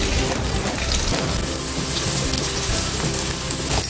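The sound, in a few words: black pomfret fish frying in hot oil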